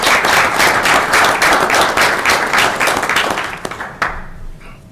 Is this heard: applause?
yes